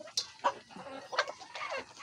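Backyard chickens cluck in short bursts as they crowd around and eat feed of corn, kangkong and madre de agua, several close, lively calls in quick succession.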